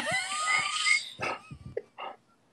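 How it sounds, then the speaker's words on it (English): A dog barks and yips in several short, close bursts, with whiny, high-pitched squeals in between, loud then trailing off. "Why are you barking?"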